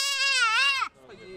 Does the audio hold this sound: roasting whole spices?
no